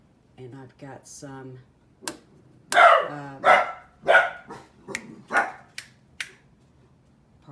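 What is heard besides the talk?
dogs barking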